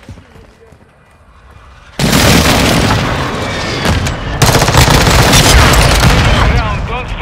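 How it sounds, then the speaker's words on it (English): Precision airstrike explosions in Modern Warfare 2 (Border Patrol map) hit after a quiet lead-in, a sudden heavy barrage of booms and gunfire that stays loud and dense, with a second surge of blasts partway through. "Friendly precision airstrike inbound."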